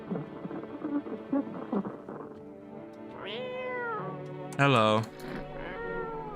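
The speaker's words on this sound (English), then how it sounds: "Kitty cat." A video game cat meows several times in a row. The calls are rising and falling, and one louder, strained meow stands out near the end, with a voice talking briefly at the start.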